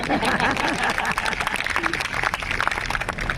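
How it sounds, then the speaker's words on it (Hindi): Audience applause at a kavi sammelan, a dense crowd clapping throughout with a voice speaking over it. "जब तक सब ताली नहीं बजाओगे मैं यहीं खोदूंगा नहीं"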